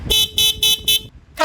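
Four loud, blaring Marco motorcycle air horn blasts in quick succession, evenly spaced, followed by the start of a fifth; harsh, brassy and close.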